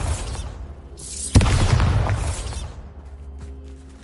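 A Bombarda spell explodes in the video game Hogwarts Legacy, giving one sudden loud burst followed by a rumbling, crackling tail that fades over a couple of seconds.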